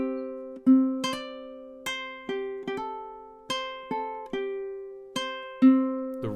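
A ukulele played fingerstyle picks out measure 11 of the Wicked arrangement, plucked ringing notes and chords in an uneven rhythm, close and clear with no talking.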